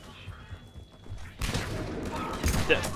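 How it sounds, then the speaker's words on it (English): A grenade explodes in Mass Effect 3 multiplayer, a sci-fi shooter battle against Cerberus forces, erupting as a sudden loud blast midway that stays as dense roaring noise over game ambience and gunfire, with a quiet low hum before it. "Oh, that's a grenade."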